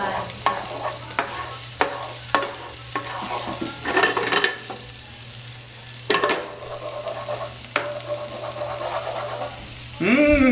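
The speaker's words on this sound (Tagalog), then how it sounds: "Ginigisa na po natin." Garlic sautéing in a pan until golden brown, a steady sizzle with repeated sharp scrapes and taps of a utensil stirring, close and moderately loud, with a louder clatter near the end.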